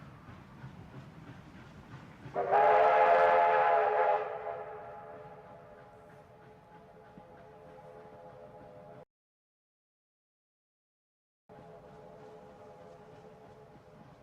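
A train whistle in the video game A Golden Wake: a loud sustained blast that eases into a fainter steady tone, breaks off into silence, then resumes at low level, with no talk.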